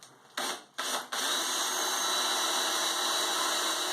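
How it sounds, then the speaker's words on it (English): A power drill whirs in two short bursts, then runs steadily and loud, boring into a wooden wall stud at close range. "And I'm going to go ahead and drill that one."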